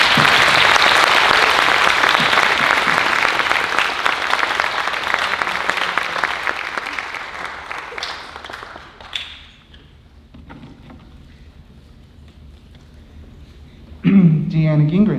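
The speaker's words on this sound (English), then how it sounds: "Logan Beam, give him a round of applause." Loud, full applause from the crowd at a school spring band showcase honors a student musician for about nine seconds, tapering off to near quiet before someone starts speaking.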